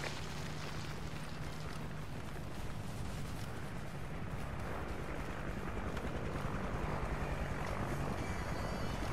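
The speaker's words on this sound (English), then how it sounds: "Friendly chopper inbound." Friendly attack helicopter killstreak arriving in a shooter video game, a dense steady rotor roar mixed with distant explosions and gunfire, loud and unbroken throughout.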